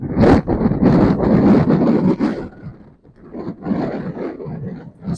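Gusty wind buffeting a microphone on a boat at Milford Sound, New Zealand, loud rumbling bursts that ease briefly midway before picking up again.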